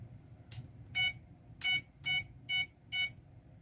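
A quadcopter drone's beeper sounds a short series of five or six sharp, high-pitched beeps at a fairly regular rhythm, loud and close, over faint low background hum.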